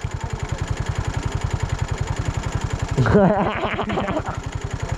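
A motorcycle idles nearby with a steady, rapid low thumping throughout on a hill road in rural Rolpa, Nepal; partway through, people talk loudly over the running engine.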